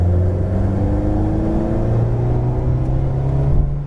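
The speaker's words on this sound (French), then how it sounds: "Accélère en ligne droite" An Alpine car accelerates hard in a straight line. The engine drone rises slowly in a steady, loud rumble heard from close inside the cabin.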